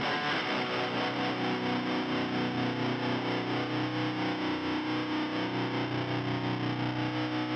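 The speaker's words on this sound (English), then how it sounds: "Let's pick a good always on reverb for everything. So for me, it's going to be a small hall." Electric guitar plays through a Fender Tone Master Pro modeler with a driven tone and small hall reverb, producing a continuous, sustained wash of notes at steady volume with no talking.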